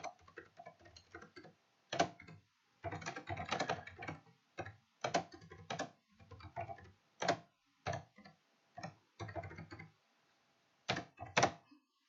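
Keys clatter on a computer keyboard in uneven bursts of quick taps, with short pauses between words, close and fairly quiet with no talking.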